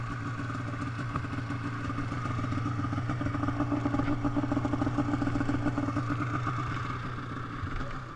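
A snowmobile stuck in snow revs steadily as it tries to dig itself out. The engine gives a continuous mid-pitched drone with a slight rise and fall, heard fairly close, with no voices.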